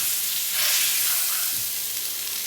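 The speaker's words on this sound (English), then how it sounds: "So I'm just going to keep mashing this until I get some good color on here." Sausage sizzles steadily in a frying pan as it is mashed fine with a potato masher, a close, continuous hissing fry with slight swells and no talk.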